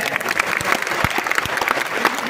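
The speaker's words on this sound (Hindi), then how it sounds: "मैं चाहता हूं कि एक बार तालियां आपकी तरफ से आए" Applause from an audience at a Hindi-language gathering for a spokesperson of the Samrat Ashok Club, steady mixed clapping from a crowd with a few sharper claps standing out, fairly close and continuous for a couple of seconds.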